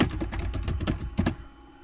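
Quick bursts of typing on a computer keyboard while entering a steganography command, a fast run of close, crisp key clicks that trails off after about a second and a half.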